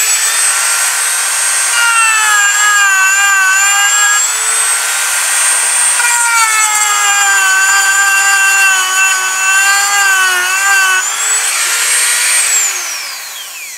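Hardell rotary tool cutting into wood: a loud, continuous high-pitched whine with steady tonal bands that dip and recover in pitch as it loads up under pressure, then winds down at the end.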